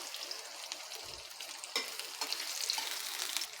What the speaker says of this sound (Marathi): कांदासुद्धा आपल्याला थोडासा परतून घ्यायचा आहे म्हणजे मऊ करून घ्यायचा आहे